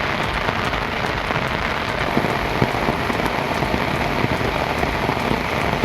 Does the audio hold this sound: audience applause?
no